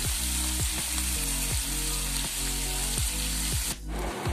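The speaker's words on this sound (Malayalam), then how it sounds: "ഇപ്പൊ നമ്മുടെ സബോളയൊക്കെ നന്നായിട്ട് വഴന്നിട്ടുണ്ട്." Onions sauté in a pan with a dense, continuous sizzle, and regular scraping strokes from stirring repeat about every half second. A brief clatter comes near the end.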